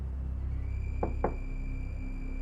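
Two quick knocks on a door, a second apart, sound moderately close over a low hum and faint muffled music in the background.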